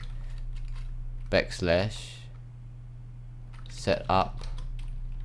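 Keystrokes clatter on a computer keyboard in short bursts while someone speaks nearby, all over a steady low electrical hum.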